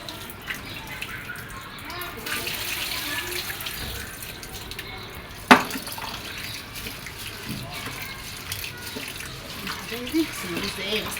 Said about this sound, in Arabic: اغسل الرز ايه غسله كويسه كده مره واثنين وثلاثه لغايه ما يبقى ابيض زي الفل